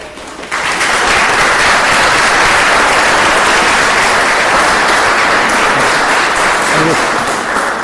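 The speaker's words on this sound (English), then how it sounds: "if we could just hold the applause to the end" Sustained applause from a crowd at a township board of supervisors meeting, rising abruptly and holding as a steady roar of clapping for several seconds before easing slightly.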